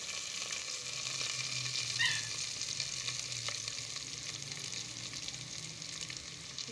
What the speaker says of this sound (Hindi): फिर हम इसमें प्याज हल्की सी ब्राउन हो गई है, इसमें हम अब लहसुन डाल देंगे चॉप किया हुआ